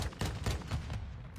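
Video game gunfire crackles in a rapid cluster of loud shots, dense and overlapping over a brief burst.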